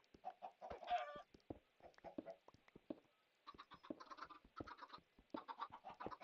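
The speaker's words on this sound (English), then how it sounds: "The chickens just want to go up, and that's so funny to me." Flock of Minecraft chickens clucking near and fairly soft, choppy bursts of short calls overlapping one another with a few pauses between groups.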